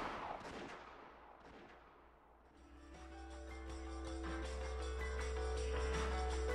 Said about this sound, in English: They certainly heard the crisp sound of a gunfire ring out once.